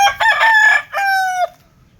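An asil gamefowl rooster crows up close in a backyard, a loud, clear two-part call that rises and then holds before it cuts off, with no other sound around it.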